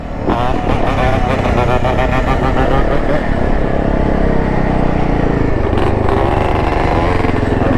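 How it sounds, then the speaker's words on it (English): A two-stroke Yamaha Blaster quad revs loudly and continuously nearby, its buzzy, raspy engine note rising and falling without a break. "we got Unk outside on the blaster. That two-stroke quad making noise."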